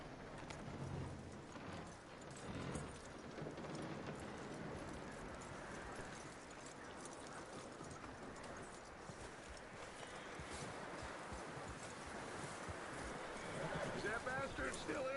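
Horse hooves clip-clopping at a steady walking rhythm in the video game Red Dead Redemption 2, continuous across the whole stretch, with voices talking over it and ambient game sound.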